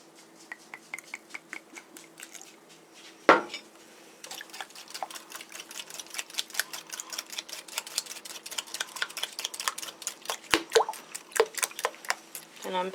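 Liquid splashes and clinks in a bowl while vanilla goes into a rice pudding custard in a home kitchen, a busy run of quick wet taps and drips with a louder knock partway through.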